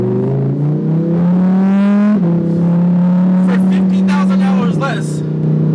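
A Lamborghini Huracan rear-wheel-drive supercar engine drones loudly from inside while driving, its tone climbing, dropping at a shift and climbing again, with a voice talking over it.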